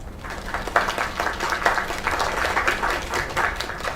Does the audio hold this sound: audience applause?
yes